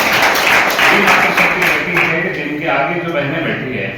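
Sustained applause fills a hall at a student talent-honouring ceremony, a steady dense wash of clapping held at even loudness throughout and tapering slightly toward the end, with voices mixed in beneath.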